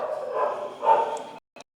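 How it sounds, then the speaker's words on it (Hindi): Dogs bark close by in a rough, continuous burst lasting over a second, followed after a short gap by one brief yip, with no talking. "आज कुत्ते बहुत परेशान कर रहे हैं जी"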